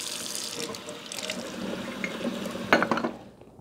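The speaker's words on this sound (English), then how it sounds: "I'm just gonna run it under some hot water until it releases" Hot tap water runs steadily into a sink, splashing and rushing, then cuts off abruptly near the end.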